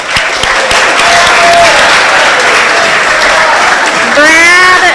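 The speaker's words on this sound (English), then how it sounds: "give him a round of applause." Audience applause at a breakfast speaker event, dense steady clapping from a crowd that fills the room, with a voice rising over it near the end.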